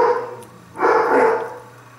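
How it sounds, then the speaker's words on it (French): A dog barks once, loud and close, a single short bark after a brief pause, with no talking. "Le chien qui a entendu quelqu'un."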